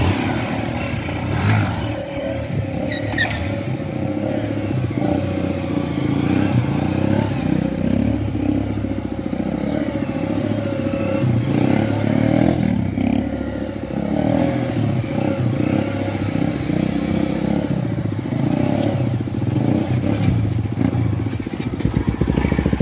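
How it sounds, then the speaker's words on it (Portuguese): A Honda CBR 150 motorcycle engine revving steadily and loudly for a long stretch, with a continuous rough drone and some clattering, no talk over it. "Essa moto ali, velho, que eu acelerei."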